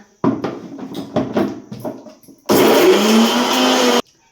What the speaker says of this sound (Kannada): ಇವಾಗ ರುಬ್ಕೊಂಡು ಹಾಕೋದಷ್ಟೇ